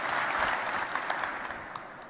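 A conference keynote crowd applauds, a thick sustained patter of many hands that stays strong and then begins to thin slightly toward the end, with no talk heard over it.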